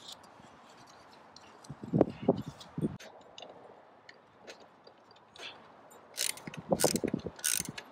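A ratchet tightens frame slider bolts on a Honda CB300R motorcycle, quick clusters of close clicking strokes separated by pauses, with a brighter burst of ratcheting near the end.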